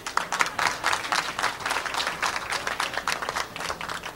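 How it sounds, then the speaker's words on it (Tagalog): Dense, steady applause from a large crowd at the Star Olympics 1993 opening ceremony, many hands clapping together at even loudness for the whole stretch with no voices standing out. "Palakpak naman kayo ba?"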